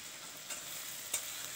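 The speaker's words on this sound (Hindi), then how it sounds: "देखिए दोस्तों कितना अच्छा मस्त फ्राई हो रहा है" Fried rice with mixed masala sizzles steadily in a pan, a close, continuous frying hiss with a couple of faint stirring scrapes.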